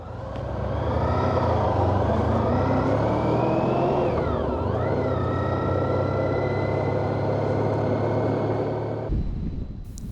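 A motorcycle rides along twisty valley roads with a steady, loud engine drone and wind rush. The pitch dips briefly midway, then the sound cuts off abruptly near the end.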